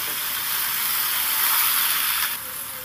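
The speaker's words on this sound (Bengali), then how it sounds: "এইভাবে আমি 2 মিনিট ভালো করে ভেজে নেব। চাল, আলু, মশলা সব কিছু একসাথে সুন্দর করে একটু ভেজে নিতে হবে।" Rice, potato and spices frying together in a pan, a steady soft sizzle and hiss that swells slightly midway, with no voices.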